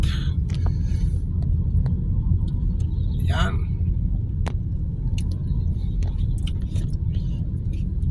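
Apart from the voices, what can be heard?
jeepney (public utility jeep) traffic in the Philippines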